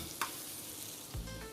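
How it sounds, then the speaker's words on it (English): Chicken pieces sizzling in a hot pan over high heat, a faint continuous hiss with a brief clatter near the start and a bump as the food shifts. "Put in the chicken. Oh man, hear that sizzle."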